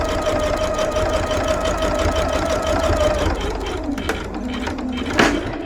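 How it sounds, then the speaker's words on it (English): A sewing machine runs a steady straight stitch across a quilted bowl cozy, sewn with the batting side up at a 4 stitch length. The mechanical drone continues for about three seconds, then stops, and a few soft clicks and handling noises follow. "So just straight stitch all the way from one corner to the other corner."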